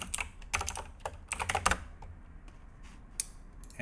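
Quick, close keystrokes on a computer keyboard come in two short bursts, then a few isolated taps trail off over a quiet background.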